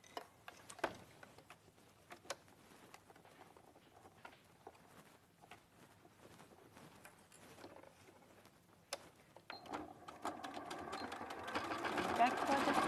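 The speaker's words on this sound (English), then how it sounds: "So you sew that down." A sewing machine stitches down a folded hem in short forward and backward runs, rapid ticking bursts with pauses between, while a person talks over it.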